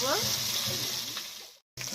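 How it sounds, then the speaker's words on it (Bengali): Boal fish fries in hot oil with a continuous crackling sizzle, close and fairly loud, cutting out briefly near the end before resuming. "মাছটা ভাজা হচ্ছে"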